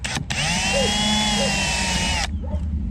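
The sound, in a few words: power drill drilling stop holes in plastic kayak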